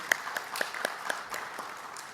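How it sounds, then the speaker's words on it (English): Conference audience welcoming a keynote speaker gives faint, distant applause, with a few distinct claps standing out over a thin, scattered patter. "A round of applause for him."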